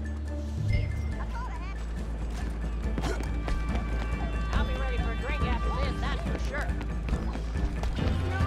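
A horse runs in Red Dead Redemption 2 with rapid hoofbeats and clattering game effects, under a voice talking over the gameplay throughout; no clear neigh stands out.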